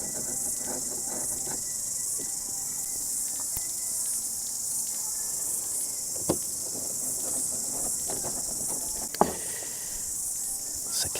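Cicadas buzz outdoors in a loud, steady, high-pitched drone that runs unbroken throughout, with a few faint knocks and clicks from nearby work on Corvette seats.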